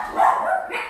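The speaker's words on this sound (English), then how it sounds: "now my dogs are going to talk." Several pet dogs barking and yipping indoors in a home kitchen, a short, fairly loud burst of barks close by with no talk over it.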